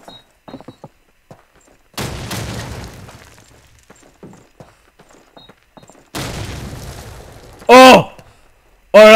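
Grenade blast in Call of Duty 2 online play, two sharp booming explosions with crackling debris standing out among scattered gunfire and excited voices talking and shouting in French.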